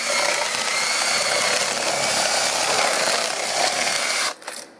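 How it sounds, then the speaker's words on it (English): A power drill grinds steadily into an LCD monitor for about four seconds, loud and harsh, before cutting off abruptly with a short rattle at the end. "Let's see if I can do like a side drill."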